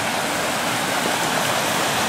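River flowing beside a footpath crossing in rural Japan, a steady broad rushing wash of water, close and continuous, with no talk.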